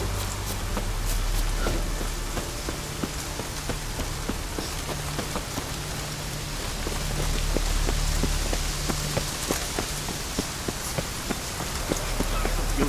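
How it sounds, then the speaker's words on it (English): Steady rain falls across a scene in The Witcher 3: Wild Hunt on PS4, a continuous hiss with scattered drop ticks running the whole time, with ambient game music and faint background activity underneath. "Looks like rain."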